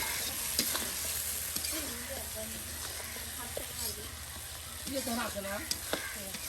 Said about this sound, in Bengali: দেখুন কত সুন্দর করে কিন্তু মশলাটা ভেজে নেওয়া হচ্ছে